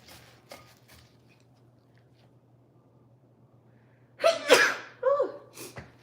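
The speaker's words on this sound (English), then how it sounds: "I think I'm about to get to the point of sneezing at this point." A sneeze while seasoning food with lemon pepper for an air fryer, a sharp close burst near the end after a quiet stretch, with a short trailing gasp.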